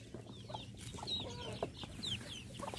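Young chicks of a country fowl and small white broiler breed foraging freely on open range, giving soft repeated clucks and short chirps near the ground, with no talk over them.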